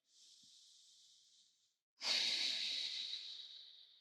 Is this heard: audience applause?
no